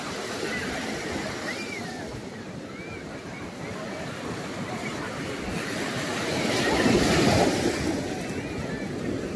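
Sea waves washing onto the beach at Puri, a loud, continuous surf roar close by that swells in the second half, with wind buffeting the microphone.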